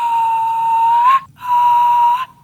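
A person produces a loud throat whistle, two sustained, steady pure tones with a brief gap between them, close up and alone without talk.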